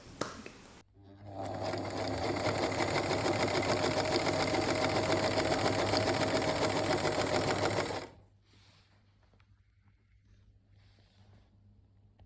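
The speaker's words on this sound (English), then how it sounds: "just the sound, I love the sound it makes" A vintage white Singer Featherweight 221K sewing machine runs in a fast, steady mechanical whir for several seconds, then stops, leaving a faint hum.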